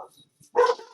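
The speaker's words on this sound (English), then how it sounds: "My dogs are going to go crazy for a second." Dogs barking indoors, one short, sharp, loud bark near the end after near silence, with no speech over it.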